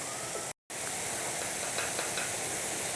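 Potato tandoori kebabs frying in oil, a steady broadband hiss and sizzle with faint crackles, continuous and close, briefly cut out for a moment.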